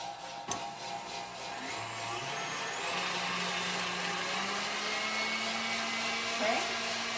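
Electric mixer whisking an ice cream base in a kitchen, a continuous whirring drone that rises slightly in pitch and holds steady throughout, with a brief knock near the start.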